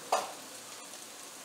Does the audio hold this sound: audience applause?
no